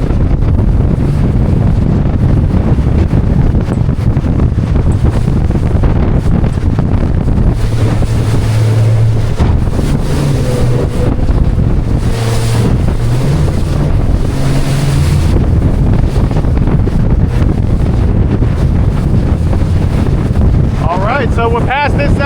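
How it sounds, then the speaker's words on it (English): Big breaking waves and strong wind buffet a boat running through rough seas, a steady loud roar of surf and wind-blasted water throughout, with faint engine tones in the middle. "These some big freaking waves."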